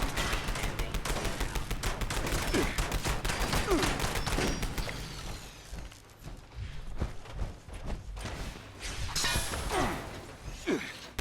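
Rapid gunfire from a pepper shaker weapon blasting turrets in the Fallout 76 video game, dense bursts of shots packed together in the first half, then sparser, scattered shots and impacts.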